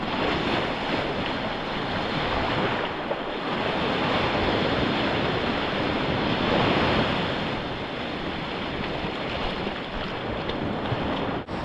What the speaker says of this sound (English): I need to be careful to not be washed off by the waves here.